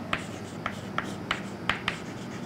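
Chalk or marker tapping and scratching on a board during an engineering lecture, six short, evenly spaced strokes alone over a quiet room hum.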